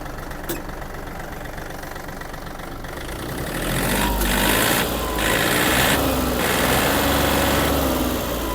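A Yanmar AF-333 mini tractor with a cab idles with a steady knocking diesel rumble, then the revs rise to a louder, denser drone that holds with small fluctuations.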